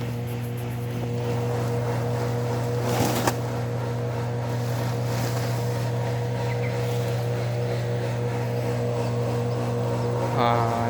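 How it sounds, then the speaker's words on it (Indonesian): A steady, loud engine drone with a constant low hum runs throughout, an engine-driven machine grinding banana stalks continuously, with a brief rattling burst partway through. "Nah itu suara mesin lagi proses penggilingan."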